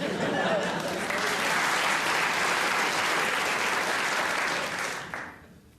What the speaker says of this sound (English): They clapped that